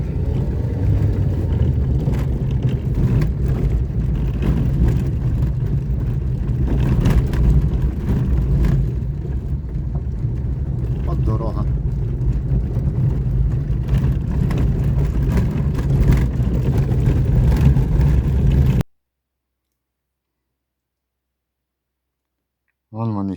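A car driving out toward a farm field during sowing season, its engine rumbling steadily with road noise and occasional clicks, before the sound cuts to silence near the end.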